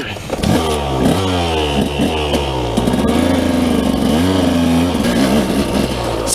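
A 2007 KTM 200 EXC dirt bike two-stroke engine revs up and down in repeated loud throttle blips, close by, with rising and falling pitch sweeps and no talking.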